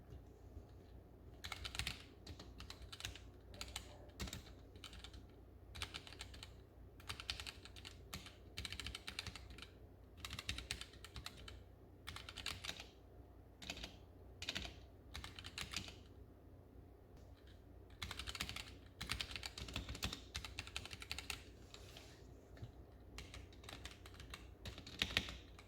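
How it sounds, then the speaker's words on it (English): Fast typing on a Womier K66 keyboard with Gateron switches: dense, continuous bursts of close mechanical key clicks and clacks with brief pauses, heard alone without speech. "now I'll do a little bit of a harder typing test"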